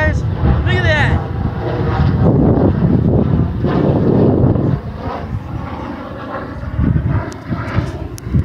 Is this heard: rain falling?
no